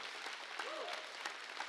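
Church congregation applause during a sermon: a faint, brief wash of hand clapping, steady and distant-sounding, without speech over it.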